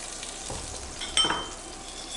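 A seared steak sizzles steadily in a hot pan, a broadband hiss of frying with a brief louder clatter and metallic clink partway through, close and alone without talk.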